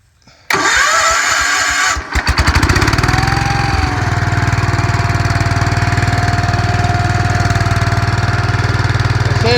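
A tractor engine on leaf-covered forest ground kicks into life with a sharp start and chugging revs, then settles into a loud, steady, close rumble as the throttle holds high, with no talking.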